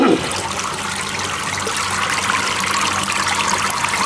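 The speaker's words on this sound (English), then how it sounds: "I'll just let this drain" Water drains from a siphon-testing bar through its bottom coupling, a steady continuous trickling and rushing flow that holds at an even level throughout, with no voices.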